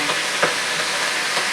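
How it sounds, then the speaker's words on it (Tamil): Curry leaves and onions sizzle steadily in hot oil in a pan, a dense close hiss broken by a few soft stirring scrapes. "நம்ம கருவேப்பிலையை போட்டுக்கலாம். போட்டுட்டு அப்படி வெங்காயத்தையும் சேர்த்துக்கலாம்"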